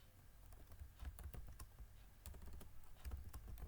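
A prompt is typed on a computer keyboard in quick, uneven bursts of light key clicks. The sound is close and quiet, with no speech.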